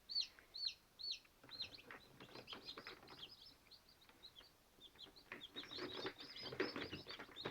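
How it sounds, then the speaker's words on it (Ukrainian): Newly hatched chicks, nine from the previous day, peep in quick high repeated notes, some near and loud, others softer, chirping continuously in a quiet setting. "Вчорашніх у нас дев'ятеро курчат."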